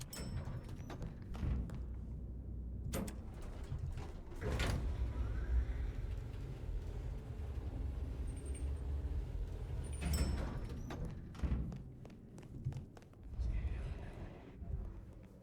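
A door opening in the video game Vampire the Masquerade: Bloodlines 2, heard as a few muffled thuds and sliding creaks over a low ambient hum, with someone talking across most of it.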